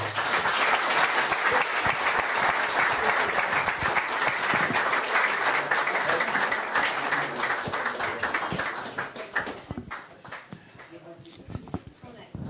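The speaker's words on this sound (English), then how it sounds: "give the boys a round of applause" Sustained audience applause following guests on a match-day show, loud and dense for about nine seconds, then thinning into scattered claps and fading toward the end.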